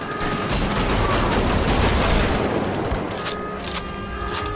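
In the video game Wolfenstein: The Old Blood, a loud, dense burst of gunfire and explosions builds into a rumbling roar. The roar fades into a few scattered sharp shots near the end.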